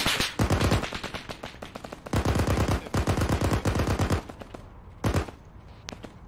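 A vehicle-mounted .50 caliber machine gun in Arma 3 fires loud, rapid bursts, with several sustained volleys separated by brief pauses and a short final burst.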